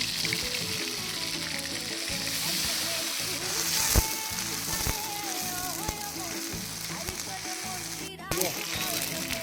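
Dried chillies and bay leaves sizzling in hot oil while cooking outdoors, a steady crackling fry with bright spitting pops throughout and a voice talking over it.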